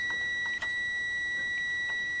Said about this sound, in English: I think it sounds a little more like a cricket than a beep